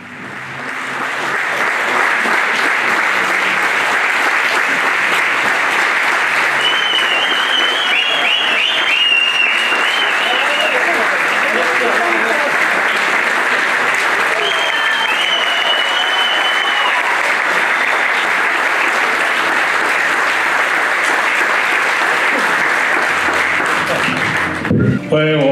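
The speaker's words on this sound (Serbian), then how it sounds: "publici se poklonila glumačka ekipa uz gromoglasne aplauze i ovacije" A cinema audience in Petrovac na Mlavi gives thunderous applause and ovations to the film cast after a screening, a dense, sustained wall of clapping with scattered cheers and whistles over roughly twenty-five seconds.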